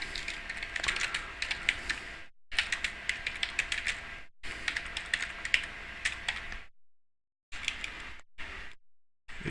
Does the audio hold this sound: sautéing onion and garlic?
no